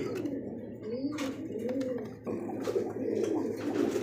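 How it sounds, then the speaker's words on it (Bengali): Red Rasgolla pigeons coo in repeated rising-and-falling rolling calls, close and fairly loud, with faint background noise. "লাল কালারের রাসগোল্লা কবুতর"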